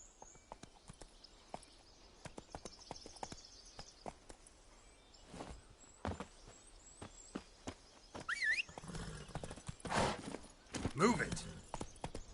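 Roach the horse walks along in The Witcher 3, hooves clip-clopping in an uneven, moderately quiet rhythm, with a few louder thumps and brief voices and squeals near the end.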